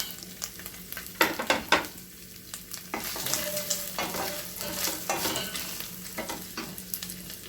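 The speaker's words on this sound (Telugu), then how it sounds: "ఇప్పుడు మనం కొంచెం కొబ్బరి లైట్గా వేపుకుందామండి" Coconut fries lightly in a pan with a soft continuous sizzle, while a spoon scrapes and stirs in intermittent strokes nearby.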